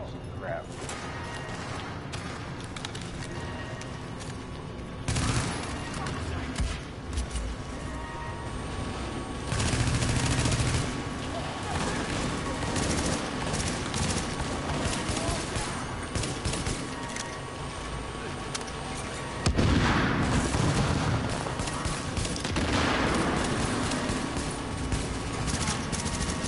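Machine gun fire in The Division, bursts of rapid shots rattling through a dense, busy game soundscape with intermittent louder volleys, while a player talks over the action.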